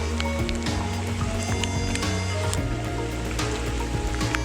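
A big creek along the edge of rural property flows steadily, a continuous close watery rush and babble filling the scene with no pauses.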